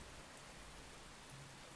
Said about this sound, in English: So nice gentle rainstorm that we're coming into here.